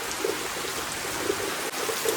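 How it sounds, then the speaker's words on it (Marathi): Heavy rain falls outdoors over a vegetable plot in the Konkan, a constant soft hiss of drops with scattered faint patters, fairly quiet and uninterrupted. "तर मंडळी पाऊस जोरदार स्टार्ट झालेलो असा"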